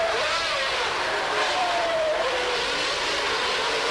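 Formula 1 race cars at the 1992 Portuguese Grand Prix, including a Ferrari, roar past in a steady, dense wall of high-revving engine noise, one rising engine whine sliding through mid-pass with no voices over it.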